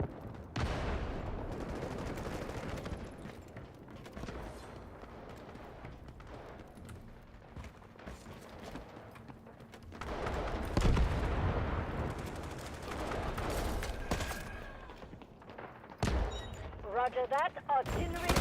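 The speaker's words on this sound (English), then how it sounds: "Artillery barrage incoming." Artillery barrage and gunfire in a shooter video game, rolling booms and dense bursts of shots that swell and fade over many seconds, with voices speaking over parts of it.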